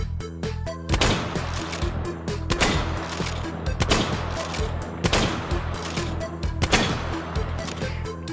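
Shotgun slug rounds boom repeatedly in the VR game H3VR, several loud sharp blasts spaced about a second apart with ringing decay and impact crashes between them.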